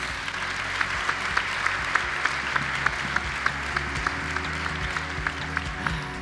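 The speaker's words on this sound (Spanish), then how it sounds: "aplauso, aplauso" Audience at a sports gala in Mijas breaks into steady applause, dense clapping with a few sharper individual claps standing out, filling the room at a constant level.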